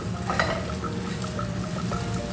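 Eggs frying in a pan for pineapple fried rice, a loud close sizzle with stirring and small crackles throughout, no talking.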